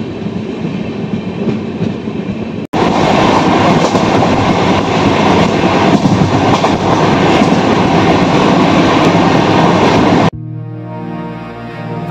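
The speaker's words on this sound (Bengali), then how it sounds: "আর আমাদের ট্রেন ধীর গতিতে এগিয়ে চলেছে অযোধ্যা ধাম জাংশন স্টেশনের উদ্দেশ্যে" Passenger train rolling slowly toward Ayodhya Dham Junction, a loud, close, continuous rumble and rattle of the carriages that jumps up abruptly and later drops back to a quieter hum.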